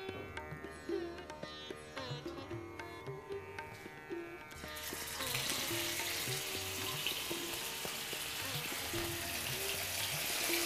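Fish frying in hot oil, a steady loud sizzle that swells after a few seconds and continues without pause, with light clatter of a utensil in the pan underneath.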